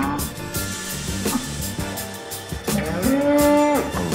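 Cattle at an agricultural show in Paris give loud, close moos, one long drawn-out call rising near the end over a busy indoor background.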